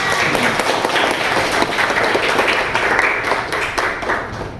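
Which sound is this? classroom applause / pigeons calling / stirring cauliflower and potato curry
classroom applause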